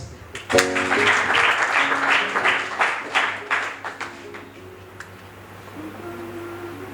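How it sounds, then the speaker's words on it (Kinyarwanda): A church congregation claps together in a burst of applause lasting a few seconds, fading out over a steady sustained keyboard or organ tone that carries on after the clapping ends. "Tumukomera amashyi."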